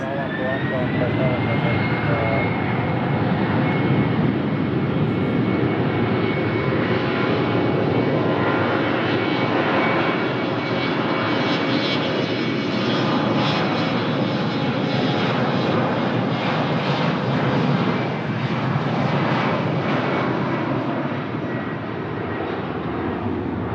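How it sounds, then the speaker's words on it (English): An Embraer 190 LR jet airliner at Lisbon Airport roars loudly and steadily throughout, with a whining turbine tone and broad engine rumble that holds nearly constant. "Embraer 190 LR to Porto, vai a caminho do Porto."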